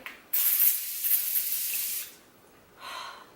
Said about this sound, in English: I love spraying this on my face when it gets really dry